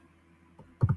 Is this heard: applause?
no